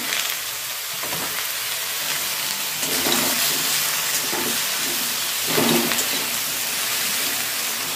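Rohu fish oil and fat frying with turmeric in a pan, a steady broadband hiss and sizzle that swells in a few brief bursts, fairly loud and close with no talk.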